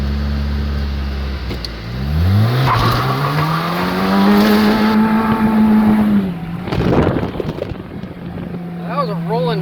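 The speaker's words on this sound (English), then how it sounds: "That was a rolling burnout right there." A car does a rolling burnout, its engine revving up loud and rising in pitch for several seconds before dropping off, with harsh squealing tires and a brief burst of noise near the end.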